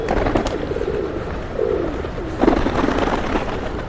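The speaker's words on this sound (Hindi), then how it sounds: "हमारे चारों तरफ में पूरे कबूतर देखिए।" A flock of pigeons coos and rustles all around in a rain-damp outdoor spot after feeding, a steady low murmur of overlapping calls with a brief flutter-like burst midway.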